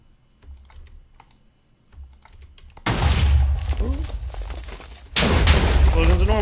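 Soft clicking and keyboard-like tapping, then two sudden loud blasts that each roar and rumble on as sustained explosion noise from a modded Minecraft game.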